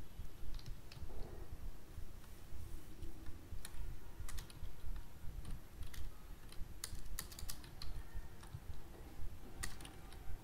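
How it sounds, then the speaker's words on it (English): Typing on a computer keyboard, close and quiet, with irregular bursts of key clicks spread across the whole stretch over a low background rumble. "Only you have to type Dbeaver."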